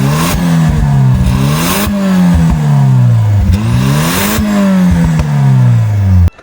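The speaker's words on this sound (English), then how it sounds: "It's a 1 litre turbocharged engine out of a K10, which is pretty cool" Nissan Figaro's 1-litre turbocharged K10-sourced engine revving repeatedly, its loud, close note rising and falling in several sweeping pulls with some mechanical clatter and whir, then cutting off abruptly at the end.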